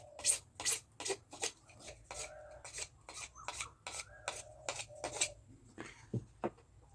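A knife scrapes along a length of bamboo to smooth it for making a Bihu pepa horn. About a dozen close, rasping strokes come in a regular rhythm, and a few softer knocks sound at the end.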